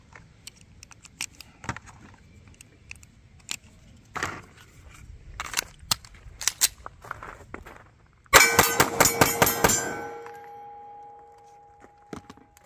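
A Taurus GX4 9mm pistol fires a quick burst of about eight sharp, loud shots in rapid succession after scattered handling clicks and clatter, with a ringing tone lingering afterward.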